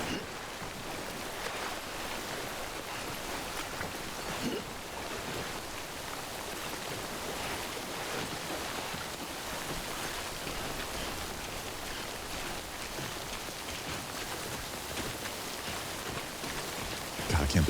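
Timefall rain in the video game Death Stranding falls as a steady, even hiss of downpour throughout, with no breaks and a small swell near the end.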